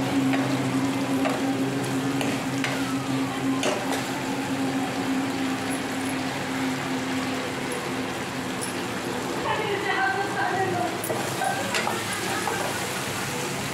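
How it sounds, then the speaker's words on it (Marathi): Eggplants frying in oil in a pan give a steady, close sizzle that runs throughout, with faint scattered clicks and no talk. "वांगे चांगले भाजून घ्यायचे तेलामध्ये"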